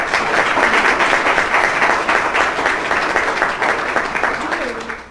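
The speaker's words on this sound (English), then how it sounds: "let's give them a hand of applause" An audience at a talk on children's health and digital devices gives sustained, loud applause for the event organizers, a dense wash of clapping that holds steady and then tapers off at the end.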